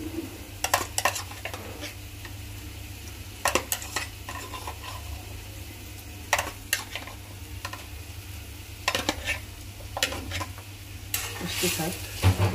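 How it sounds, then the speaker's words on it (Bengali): Shrimp and spices sauté in a pan on a gas stove, a soft steady sizzle broken by repeated scraping clatters of a utensil stirring against the metal. "লতি কষানোর জন্য চিংড়ি মাছ আর মশলা কষাই নিতেছি"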